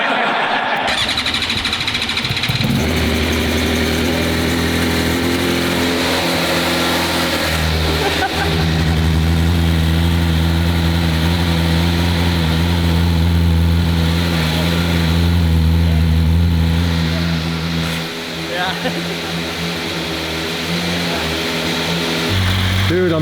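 A 2026 BMW motorcycle engine starts in neutral, catches after a brief crank and settles into a loud, steady idle with slight revs, heard up close with talk over it.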